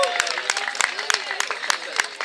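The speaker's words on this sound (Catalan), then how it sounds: "Un aplaudiment per l'Ian." Scattered audience claps at a clown performance, several crisp close hand slaps in an uneven rhythm over lively voices and background talk.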